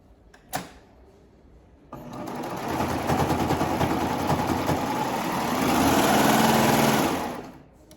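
A serger closes the raw edges of fabric for a pair of bummies, whirring loudly and steadily for several seconds after a brief click, then winding down.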